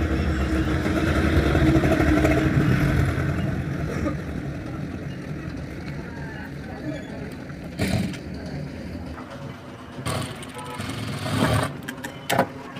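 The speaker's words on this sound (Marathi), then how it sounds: "आता काय करूया, हा जो फोल्ड आहे आपल्या 1 इंचाचा बनेल असा फोल्ड करून पुन्हा एक शिलाई मारून घेऊ।" A sewing machine runs a steady stitch along a one-inch fold on a four-tuck blouse. The motor hums loudly and continuously for several seconds, then falls quieter, with scattered clicks and short bursts of handling noise.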